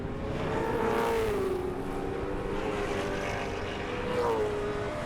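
Muscle race cars at a Central Muscle Cars race at Manfeild roar down the back straight, a steady engine drone with rising and falling pitch as the field passes, loud and continuous with no talk.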